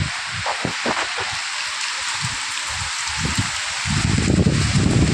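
Rain falls steadily on a home in Kerala during a thunderstorm, a constant broadband hiss with scattered drops, growing heavier and louder toward the end.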